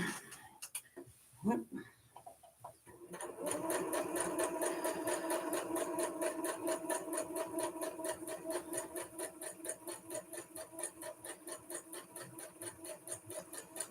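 A sewing machine runs steadily at an even rhythmic pace, stitching across small fabric scraps for a Halloween table topper, loud and close after a few brief handling clicks at the start.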